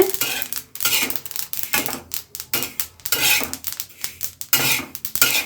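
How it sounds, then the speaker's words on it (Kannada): Sesame seeds dry-roasting in a pan on low heat, crackling and popping in dense, irregular bursts of bright, close crackle with brief pauses between them. "ನೋಡಿ ಈ ಥರ ಚಟಪಟ ಅಂತ ಎಗುರ್ತಾ ಇದೆ ಎಳ್ಳು"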